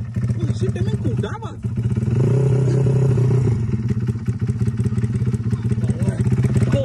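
Honda Supra motorcycle fitted with an aftermarket exhaust, its engine droning loud and close with rising revs and some clattering, while people talk over it.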